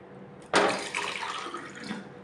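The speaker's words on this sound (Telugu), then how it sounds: "వీటిని ఇప్పుడు 1 గ్లాసు 2 గ్లాసులు వాటర్ పోసేసుకొని" Water is poured from a glass into a pot of chana dal soaked for about five hours, ahead of boiling it for sweet poornalu. A sudden splash is followed by a steady gurgling pour that trails off over roughly two seconds, close by, with no talking.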